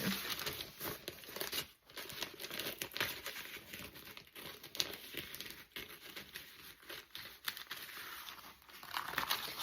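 Sheets of glued junk-journal paper are cut out and folded along lines for an envelope pocket, giving a steady, close crinkling and rustling with brief papery crunches and no talk.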